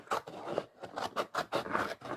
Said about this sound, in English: So I'm going to cut the bee out now.